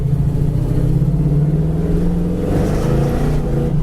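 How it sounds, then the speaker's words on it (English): A 1973 Dodge Challenger Plum Crazy pulling away in second gear, its engine rising in a loud, steady roar heard from inside the car, continuous throughout. "that's second gear right there taking off"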